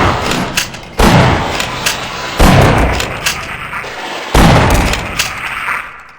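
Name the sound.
shotgun fire in video game Half-Life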